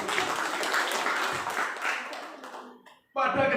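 Audience at a school positive-culture outreach session at SMP N 1 Kedungwaru claps for a speaker, a broad, dense wash of applause lasting nearly three seconds before fading out, then a voice begins speaking.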